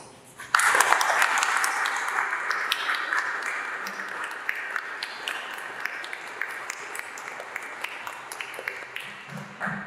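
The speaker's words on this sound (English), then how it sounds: "Let's give him one more round of applause." Audience applause after a college presentation on the future of manufacturing: a burst of clapping starts abruptly, swells to a full, steady round from the crowd, then gradually thins to scattered claps over ten seconds.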